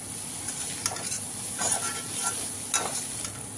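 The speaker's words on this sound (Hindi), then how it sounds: "ऐसे चलाते रहेंगे और ये हल्का सॉफ्ट हो जाएगा।" Khoya (mawa) warms in a kadhai while being stirred, producing a low continuous sizzle with intermittent soft scraping strokes of a spoon, close up and moderately quiet.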